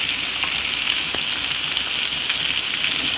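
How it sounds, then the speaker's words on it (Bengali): Heavy rain falls outside during cooking, a steady, dense hiss of drops that holds without a break, fairly loud and close, with no talking. "আমাদের এখানে প্রচুর পরিমাণে বৃষ্টি পড়ছে"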